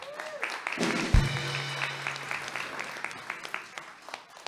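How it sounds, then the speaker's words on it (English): At a cowboy church service, the audience breaks into a burst of applause with scattered claps that carry on for several seconds. A low tone is heard at the start. "Round of applause for Miss Wanda for, for providing our lunch."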